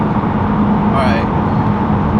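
Straight-piped Ford Mustang GT cruising on a highway in 4th gear at about 3,000 RPM under throttle, a steady, loud low exhaust drone mixed with road noise throughout.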